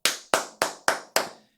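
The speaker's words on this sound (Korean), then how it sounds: "여러분들 박수!" Five crisp hand claps in an even, deliberate rhythm, each sharp and close with a short decaying tail, alone without any voice.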